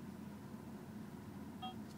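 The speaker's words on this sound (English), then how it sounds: "it goes for a while and then a little beep" A single short electronic beep from a Saab 9-3 Aero dashboard near the end, soft and high-pitched, following a quiet, steady low hum with no talking.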